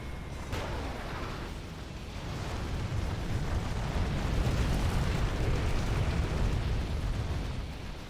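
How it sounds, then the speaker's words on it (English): Napalm drop explosion in the Command & Conquer real-time strategy game, a sustained roaring, crackling fiery rumble that swells after a sharp onset and stays loud throughout, with no talk over it. "the napalm drop has got new effects, which look very nice"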